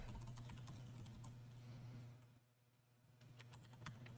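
Quick, faint keystrokes on a computer keyboard at a desk, a loose run of clicks with a short pause midway, over a steady low electrical hum.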